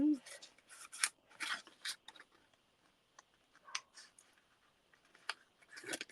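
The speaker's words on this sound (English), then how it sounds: "So let's just cut that at a nice angle." Scissors snip through card for a homemade chocolate bar box, a run of close, crisp cuts and clicks with short pauses between them, no talking over them.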